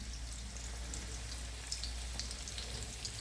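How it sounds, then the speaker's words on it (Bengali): Chicken pieces for pakora fry in oil, giving a steady, soft sizzle dotted with small crackles and pops, heard up close and with no talk. "দেখছো চিকেনগুলো ভাজা হচ্ছে।"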